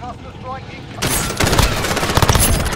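An MP7 submachine gun fires in rapid full-auto bursts on the Shipment map of Call of Duty: Modern Warfare 2019, loud and close, following a quieter opening moment.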